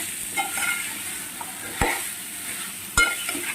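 Masala with amaranth stems stirred and fried in a pan for an egg curry, a steady low sizzle broken by a few sharp spoon scrapes against the pan, close and alone with no talking.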